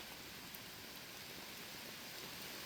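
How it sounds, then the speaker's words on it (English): Rain falls by a river in Costa Rica as a faint, steady hiss of drops, even and unbroken, with no voices. "Man, it's raining though, dude. It's just raining."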